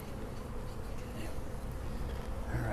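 Honeybees from a package swarm buzz steadily around a Warre top bar hive during installation, a dense continuous hum of many wings close by, with no voices.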